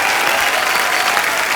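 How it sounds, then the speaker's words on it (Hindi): An audience at a comedy show applauds, and the clapping stays dense, steady and close throughout the short burst. "जोरदार तालियां शबीना जी के लिए।"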